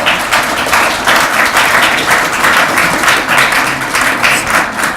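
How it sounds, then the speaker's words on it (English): A crowd applauds steadily, a dense wash of clapping that holds at an even level from start to finish. "Maybe a round of applause for both of those people."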